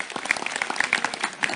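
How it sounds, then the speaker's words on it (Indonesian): Applause from an audience at an Indonesian public gathering, a short burst of close, fairly loud claps with individual hand strikes standing out irregularly over a busy crowd texture. "Jadi tepuk tangan sekali lagi untuk beliau."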